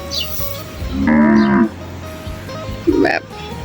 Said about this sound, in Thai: ดูจ้าวัวเขาแบบตัวใหญ่มาก